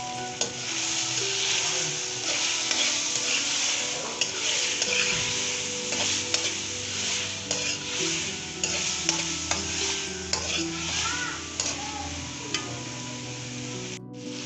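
Macaroni and chicken fry with salt and black pepper in a pan, a steady sizzle under repeated scraping and stirring clatter from a spoon, close and without speech.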